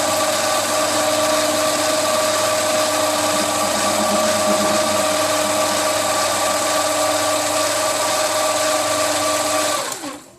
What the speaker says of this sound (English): I'm running at about 450 RPM. So I'm going to see if I could take that piece off there.